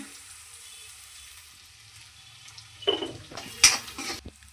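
Spice mixture frying in a pan in a home kitchen; a faint, low sizzle runs underneath, then a few sharp metallic clinks and stirring scrapes of a utensil against the pan near the end.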